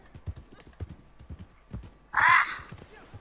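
Red Dead Redemption 2 horse hooves clip-clop in a steady rhythm, then a loud whinny breaks in midway before the hoofbeats carry on.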